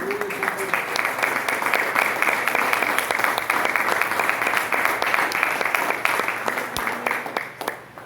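A church congregation applauds during a Portuguese-language service, a sustained, steady roar of many clapping hands lasting several seconds, fairly close and loud, easing slightly at the very end.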